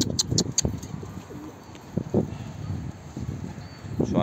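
Pigeons gathering while being fed, giving soft repeated coos and chirps at close range along with faint rustling, and a few bird calls clustered at the start.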